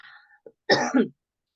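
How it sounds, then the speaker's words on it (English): A brief throat-clearing cough, one short rough burst in two quick parts, close and fairly loud against near silence. "I'm just starting coughing"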